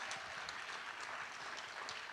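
Steady applause from an audience at a senior awards ceremony, a brief continuous patter of many hands clapping at moderate distance with no talk over it.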